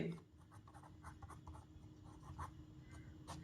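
Pen on paper while a math solution is worked out, soft close scratching strokes in short bursts under a teacher's steady speech.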